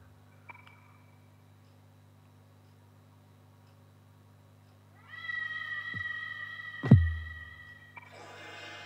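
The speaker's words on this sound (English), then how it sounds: "Hey, it's that same cat from the lobby." A cat in the video game Persona 2: Eternal Punishment lets out a drawn-out, tonal meow over a quiet background hum, followed by a short low thud and a brief burst of game noise.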